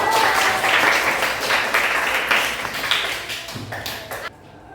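A classroom of students claps together in a loud, close burst, the clapping dense and steady before thinning out and stopping abruptly near the end.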